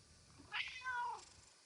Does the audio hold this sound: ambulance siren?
no